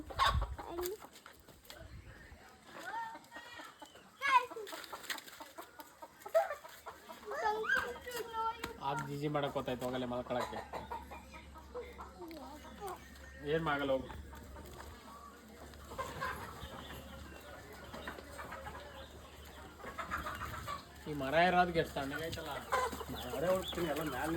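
Mysore native country chickens cluck and squawk repeatedly, close by, in scattered bursts over continuous outdoor background noise, with people talking intermittently.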